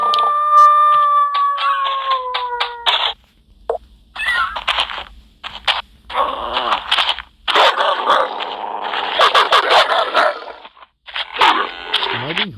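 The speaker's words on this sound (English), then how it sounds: "and I hear dogs" Dogs bark and howl in a survival craft video game, with repeated clustered barks at mid distance and a drawn-out howl at the start.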